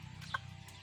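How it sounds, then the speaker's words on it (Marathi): A country hen gives a quiet, brief cluck over a low steady murmur, close but faint. "आपल्या गावरान कोंबड्या आहेत"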